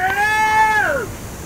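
A cat gives a single clear, drawn-out meow that rises and then slides downward, loud and close, with no talking over it.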